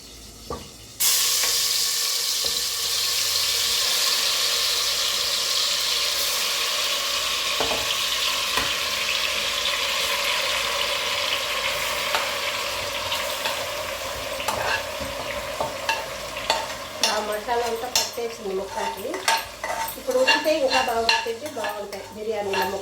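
Marinated goat mutton fries and sizzles in ghee in a pot for a mutton dum biryani, with steady loud frying hiss throughout, then scraping and clattering stirring strokes growing busier toward the end.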